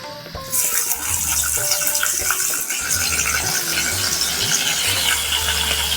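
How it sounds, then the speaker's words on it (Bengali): Chopped onions hit hot oil and fry with a loud, continuous crackling sizzle, close up and steady throughout. "ফোড়ন ভাজা হয়ে গেছে, এবার দিয়ে দেব কোচানো পেঁয়াজ"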